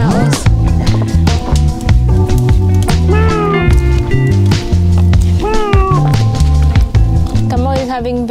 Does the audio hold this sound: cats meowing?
yes